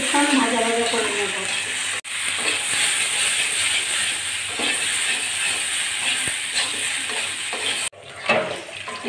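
Bitter gourd and potato fry in oil with garlic, onion and green chilies, making a loud, steady, close sizzle and hiss throughout, briefly interrupted twice.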